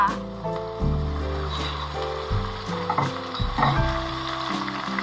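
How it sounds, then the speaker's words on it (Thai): Chicken liver and chili stir-fried for Thai pad kra pao, sizzling loudly in a pan with bursts of stirring and scraping across several seconds, with no one speaking. "อีกสักพักหนึ่งพอตับใกล้จะสุกเราก็จะใส่พริกลงไปจ้ะ"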